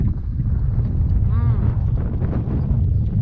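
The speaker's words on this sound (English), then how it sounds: "Sorry about the wind, guys," Wind buffeting the microphone during a kayak fishing outing on open water, a steady low rumbling roar that continues throughout with brief voice-like tones mixed in.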